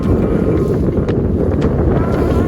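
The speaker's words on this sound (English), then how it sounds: "Wind's picked up." Strong wind roars across the microphone aboard a Com-Pac Eclipse trailer sailer, a loud continuous rumble with water and rigging noise underneath, no voices.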